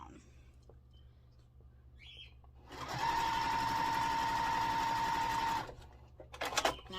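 A sewing machine stitches a 1/4 inch seam along a quilt block with right sides together, running in a steady loud burst of about three seconds after quiet handling noises, then stopping.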